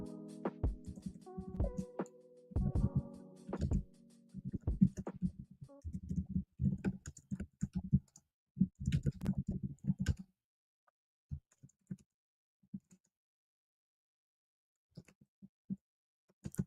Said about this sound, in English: Let me type this message real quick.